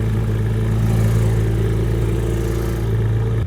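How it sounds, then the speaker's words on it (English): A loud supercar engine runs at a steady, heavy drone close by, with no talking. "I really want to show you how loud the car really is now."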